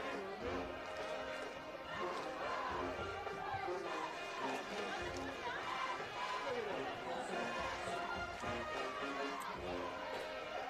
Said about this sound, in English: Nice crowd in the house for Clay-Chalkville over on the visitor stands